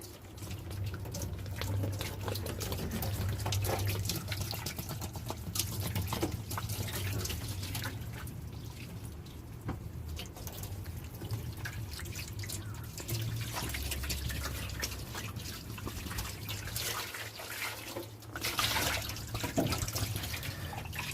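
Water splashes and trickles steadily while a car trunk is rinsed out during a Nissan S14 restoration, continuous running-water hiss with scattered drips and bumps and no talk.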